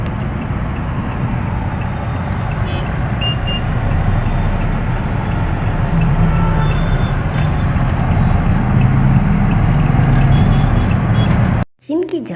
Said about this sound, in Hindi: क्या ट्रैफिक अभी हो रही है,